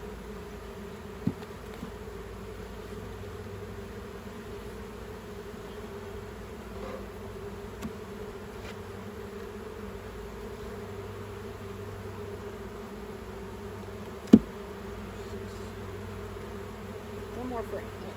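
Honeybees buzzing around an opened beehive, a constant low hum close by, with two sharp knocks from handling the hive frames.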